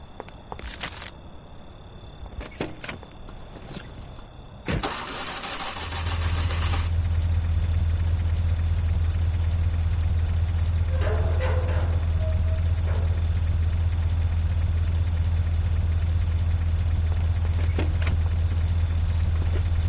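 An in-game car engine from the PC game Mafia cranks and catches, then settles into a steady, loud low idle that runs continuously, with a few faint clicks beforehand.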